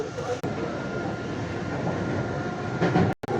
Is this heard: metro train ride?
yes